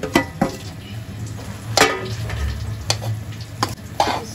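Jaggery barfi mixture being stirred in a pan, with scraping strokes against the metal at irregular intervals over a low, steady background hum.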